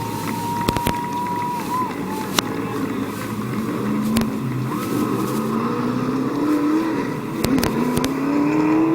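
Race cars circling a speedway oval during a victory lap, engines droning steadily with rising and falling pitch as cars pass, mixed with wind noise and a crowd-like background, fairly loud throughout.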